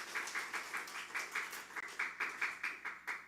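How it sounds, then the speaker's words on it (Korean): A church congregation at a Sunday worship service claps for the Sunday school children on Children's Sunday, a light rhythmic patter of hands, fairly soft and slightly distant, with no voices over it. "우리 박수 한번 해주세요. 우리 주일 학생들."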